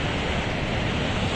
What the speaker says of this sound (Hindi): आप पानी का पावर देख सकते कितना ज्यादा है, एंड पानी यहाँ पर टकरा के उछल रहा है